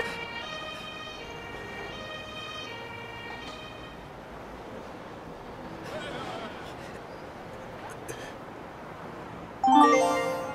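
An ambulance siren wails in the emergency-services video game Emergency 5, a repeating tonal warble under game ambience before a louder burst of game sound at the end.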